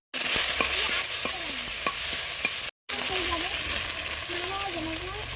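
Spice paste hits hot oil with cumin seeds in a pan, giving a loud continuous sizzle with repeated clicks and scrapes of stirring, broken by a brief gap, voices faint beneath.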